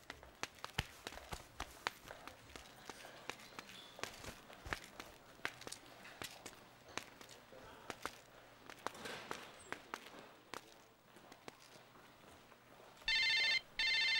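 A telephone rings out in a burst of bright repeated trills near the end, following a stretch of scattered footsteps and light taps in a quiet room.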